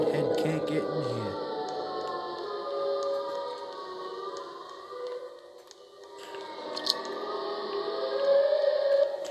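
A Siren Head monster in a Roblox game, heard as a long droning, wailing siren tone with layered sustained pitches, moderately loud under game noise and faint background voices.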